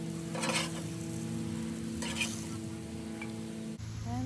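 Peppers stir-fry on a Blackstone griddle with a constant crackling sizzle, broken by a few bursts of spatula scraping and stirring against the flat steel top, close and moderately loud.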